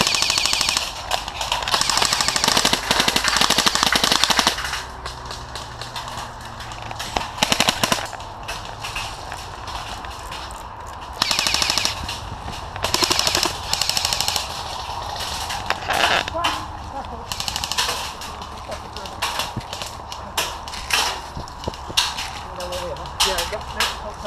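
Airsoft gunfire at a Milton Keynes skirmish site with M4-style rifles and a UMP-45, heard as bursts of rapid clattering shots in clusters, loud and close, alternating with quieter gaps, with voices talking in between.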